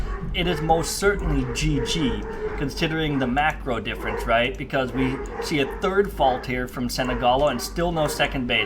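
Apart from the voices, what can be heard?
dogs barking upstairs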